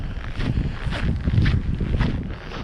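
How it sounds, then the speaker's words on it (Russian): Cold wind blowing outdoors in Omsk, a steady rough rumble buffeting the microphone with gusts rising and falling for the whole stretch, no talking. "Ветер."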